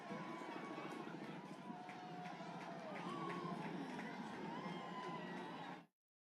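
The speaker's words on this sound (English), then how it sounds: "You can hear the crowd erupting at various moments when the eclipse has been seen" A large outdoor crowd at Niagara watching a solar eclipse roars and cheers continuously, a dense wash of many voices with scattered shouts, steady and fairly loud until it cuts off.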